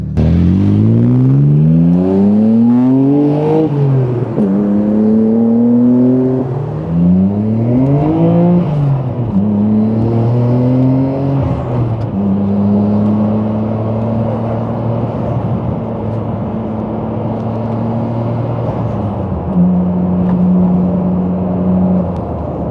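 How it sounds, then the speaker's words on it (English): A Nissan Skyline R34 GT-R's deep engine revs up in rising sweeps, again and again, then settles into a loud, steady drone close by. "Like it sounds so deep, the sound of the engine."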